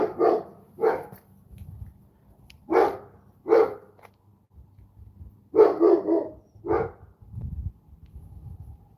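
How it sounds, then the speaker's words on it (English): Several dogs bark in short bursts, some close and loud, with quiet gaps and low rumbling between the volleys. "What are you guys barking at?"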